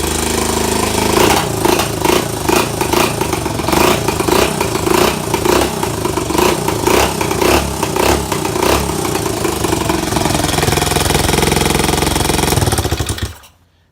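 A small pit bike engine with a freshly cleaned carburetor runs loudly up close, revving in repeated throttle blips over a steady rough idle before cutting off abruptly at the end.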